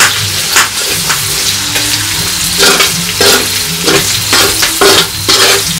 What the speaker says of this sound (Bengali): এবারে আমরা রাইসের জন্য বিনস গুলোকে ভেজে নেবো।